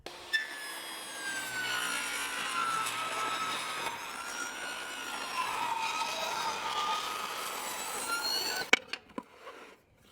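A table saw rips a wood board into 3/8-inch strips, giving a loud, steady, high whine for nearly nine seconds before the cut stops abruptly and a few sharp clicks follow.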